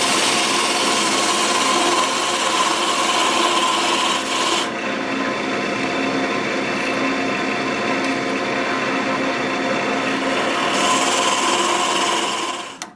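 Wood lathe turning a cedar blank for a hollow form, the gouge cutting a tenon with a steady continuous rasping, rubbing hiss over the motor hum, close and loud throughout with no talk.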